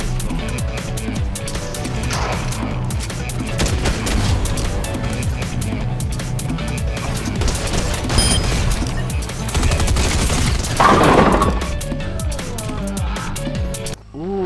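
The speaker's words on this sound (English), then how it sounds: "the heavy sniper's back again" Heavy sniper rifle fire from a video game, loud bursts and crashes over a busy, dense game soundtrack, with a sharp strong blast near the end.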